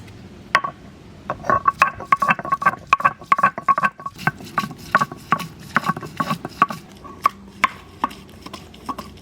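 Boiled eggs being crushed into a coarse paste on a grinding stone for a village chicken biryani, a brisk irregular series of sharp taps and scrapes, close and clear with no talk.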